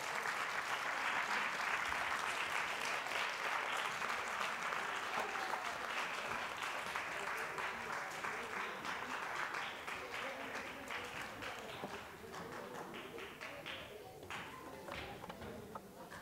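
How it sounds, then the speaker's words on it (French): Sustained applause from an audience at a prize ceremony for a kamishibai contest, cheering students on with steady many-handed clapping that gradually thins toward the end, crisp individual claps audible. "nous on vous donne du courage en vous applaudissant très fort"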